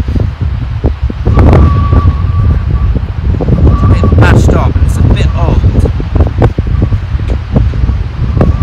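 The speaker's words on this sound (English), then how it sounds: "Where this wind has suddenly come from." Gusty wind buffets a microphone outdoors during metal detecting in the UK, a loud steady rushing with rustling, while someone talks over it.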